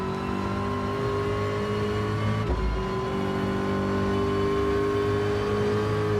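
Race car engine holding a loud, steady droning whine that briefly dips and drops off as the driver lifts off the throttle, then settles back into a sustained tone.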